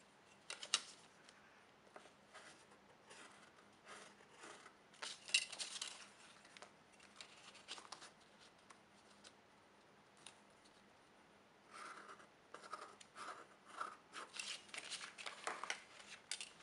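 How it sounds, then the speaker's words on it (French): Scissors cutting out a triangle of material for a cigar pouch, close and quiet, with irregular bursts of snipping and crisp paper-like rustle separated by pauses. "Et vous n'avez plus qu'à découper ce triangle."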